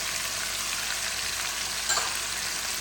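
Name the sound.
garlic and herbs frying in a pan, stirred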